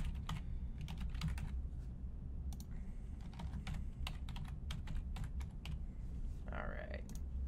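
Login credentials being typed on a computer keyboard, close and fairly quiet: quick bursts of key clicks with short pauses, over a steady low background hum.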